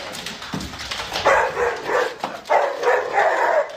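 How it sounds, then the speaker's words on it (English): A dog barks and yips in several quick, fairly loud bursts, close by and with no voices. "I just discovered that my dog is the worst guard dog in the world."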